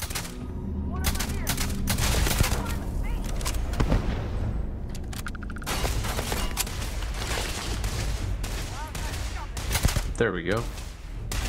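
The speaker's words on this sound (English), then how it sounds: "she's shooting someone all the way over there" Gunfire from a companion fighting in the video game Starfield, a steady run of rapid shots and bursts like machine-gun fire with occasional booms, under a player briefly talking.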